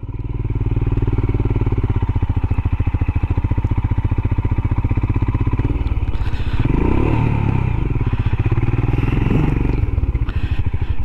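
A Royal Enfield Himalayan motorcycle engine runs steadily while riding, with a loud, close, continuous thumping drone and some clatter and wind scrape midway.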